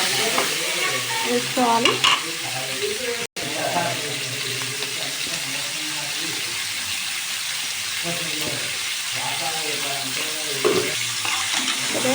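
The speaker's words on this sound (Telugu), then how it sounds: "ముక్కలు అయితే మంచిగా ఫ్రై అయ్యాయి కాబట్టి ఇప్పుడు కొద్దిగా కారం" Chopped pieces frying and being stirred in a pan as chili powder goes in, a steady close sizzle with scraping stir strokes under a voice talking throughout.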